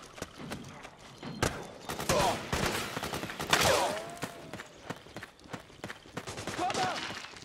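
A rapid volley of gunfire in the Metal Gear Solid 4 video game: dense, overlapping shots in bursts across the whole stretch, with voices shouting over the firing.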